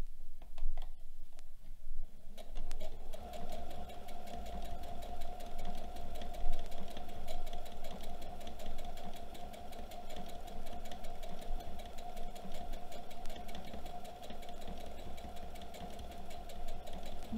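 A sewing machine stitches appliqué onto a quilted table topper, its rapid, even needle rhythm running steadily and fairly quietly after a short, uneven start.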